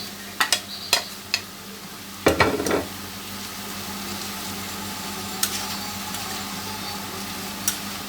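Fried onion going into a sizzling prawn korma with pointed gourd, a few sharp scraping stirs and clinks early on, then a steady low frying hiss with occasional taps.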